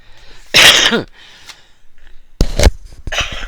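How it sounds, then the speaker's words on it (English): A sharp, loud cough bursts out close by, followed by quieter breathy sounds and a second cluster of rough coughing. "Didn't mean to cough in your ear"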